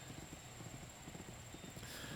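Steady hoofbeats of a galloping horse in The Unicorn Princess video game, a rhythmic clip-clop running continuously over a constant background hum.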